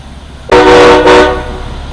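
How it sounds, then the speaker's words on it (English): A single loud, blaring air train horn blast from a chemical tanker truck sounds up close for about a second, harmonic and piercing, then cuts off into low rumble. "I always blow the train horn."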